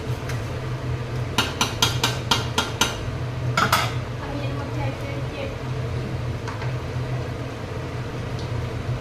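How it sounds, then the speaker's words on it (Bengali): A spoon stirs food in a cooking pan, a rapid run of sharp metallic taps and scrapes against the pan over a steady low hum, followed by quieter intermittent clinks. "এবার একটু আমি তুলে নিয়ে নিচে একটু নাড়িয়ে দেবো।"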